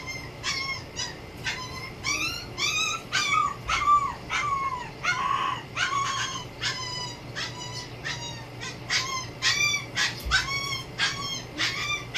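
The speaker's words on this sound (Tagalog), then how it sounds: "Yung iingay ng mga aso" Several dogs bark, yip and howl noisily in repeated overlapping outbursts, fairly close and loud, with no talking.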